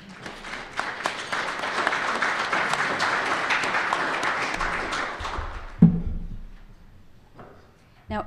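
Steady applause from a conference audience at an asbestos-awareness gathering, rising and holding for several seconds before tapering off, followed by a sharp knock and quieter room sounds.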